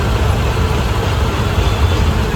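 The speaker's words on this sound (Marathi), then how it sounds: "ट्रॉफिक मध्ये अटकलोय बघा, किती ट्रॉफिक लागलेली." Dense road traffic in a jam, a steady, loud wash of idling car, bus and truck engines with a constant low rumble and no distinct passing vehicles or voices.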